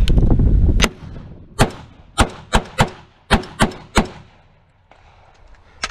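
A gun fires through a magazine, its barrel hot: a burst of noise, then seven or eight sharp, loud reports spaced unevenly about half a second apart, each with a short decay, before quiet.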